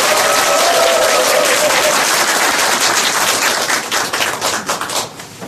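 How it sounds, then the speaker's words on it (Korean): Dense, sustained applause from a large crowd, loud and steady for several seconds, then thinning out and tapering off toward the end. "힘찬 박수로 모시도록 하겠습니다"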